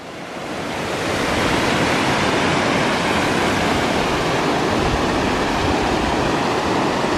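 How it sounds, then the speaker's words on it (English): A waterfall beside an old stone bridge in the Lake District roars as a loud, continuous rush of falling water, swelling in over the first second and then holding steady and close throughout. "The waterfall comes way from over there."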